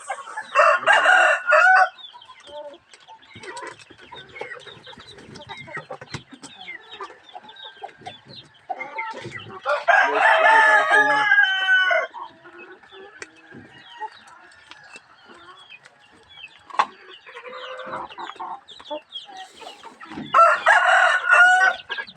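Backyard hens and roosters at midday feeding time: loud rooster crows burst out near the start, around the middle and at the end, with steady clucking and chatter from the flock in between.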